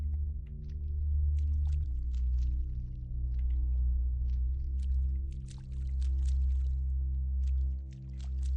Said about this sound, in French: Mais je marche sur l'eau.